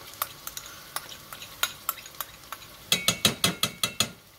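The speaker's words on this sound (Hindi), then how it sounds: "अब हम इसके अंदर डालेंगे अदरक लहसुन का पेस्ट" Ginger garlic paste sautéed with onions in a pan: a spoon scrapes and clinks against the pan in steady rhythmic strokes over a soft sizzle, growing quicker and louder toward the end. No one speaks.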